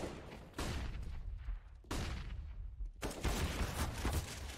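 Gunfire in the video game Counter-Strike: rapid bursts of shots in several distinct volleys separated by short pauses, loud and dense, with no talk.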